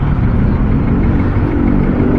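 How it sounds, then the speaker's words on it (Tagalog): Road traffic on Rizal Avenue in Caloocan, near Monumento, makes a steady, dense rumble of passing vehicles and engines that stays constant and fairly close throughout, with no talking. "Traffic na dito sa Rizal Avenue."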